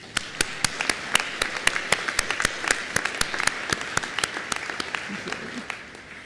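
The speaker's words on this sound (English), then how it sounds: "Let's give one more round of applause for all of these students and their honors" A commencement ceremony audience applauds graduates of academic honor societies, a steady dense patter of many hands clapping from mid-distance that carries on evenly throughout.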